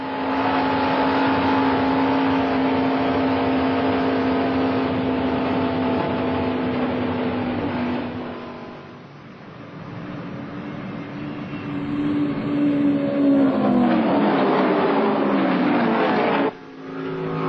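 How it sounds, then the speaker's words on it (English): Stock cars race at the 1979 Winston 500, including an Oldsmobile, with loud, sustained engine roar from cars passing close by, a brief dip midway, then a rising, harmonic-rich howl as more cars sweep past. "Waltrip's Gatorade Oldsmobile has lost the draft. Bobby Allison is all alone"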